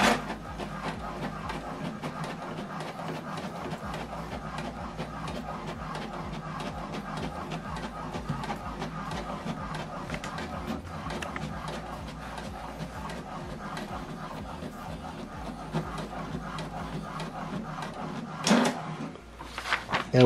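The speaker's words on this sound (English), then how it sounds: "So this document now is printing." An HP DeskJet 2700 inkjet printer runs a print job, giving a steady mechanical whirr and rapid clicking of the carriage and paper feed throughout, with a louder clatter near the end.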